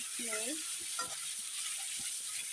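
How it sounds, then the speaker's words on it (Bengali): Six eggs being stirred and fried in oil in a wok make a soft, quiet sizzle with occasional light taps of the spatula, and a brief voice-like hum near the start. "ডিমটা আমি ভালো করে নেড়ে নেই"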